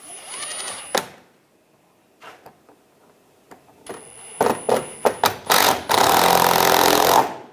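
Screws are driven in to fasten the front bumper molding on a 2013-2016 Dodge Dart, heard as short bursts of mechanical whirring and clicks with quiet pauses between them, then a sustained run near the end.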